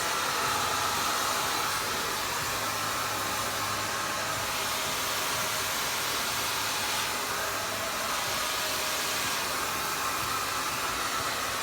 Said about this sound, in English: I am not taking the blow dryer out, putting the brush in and going down